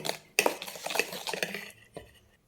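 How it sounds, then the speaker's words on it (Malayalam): A spoon stirring maida flour into plum cake batter in a metal bowl, several clinking scrapes and knocks against the sides over a couple of seconds, close and fairly loud, then trailing off. "മൈദ ഇട്ടിട്ട് ഒന്ന് ഇളക്കിയെടുക്കാം"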